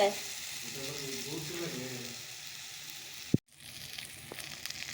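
Peas fry in a pan with a continuous sizzle, a voice speaking over the first part, then a sharp knock and a brief drop before the frying carries on.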